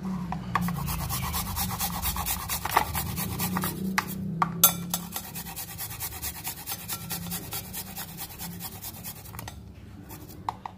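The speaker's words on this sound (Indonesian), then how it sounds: "Lalu bawang putih parut." Garlic is rubbed back and forth on a grater in quick, rasping strokes, a close, steady scraping rhythm with a few sharper knocks, heard alone at low volume.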